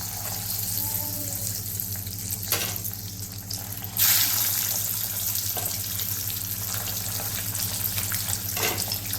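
Eggs sizzle in hot oil in a pan for a Bengali egg curry, a steady hissing crackle throughout with a louder burst partway through.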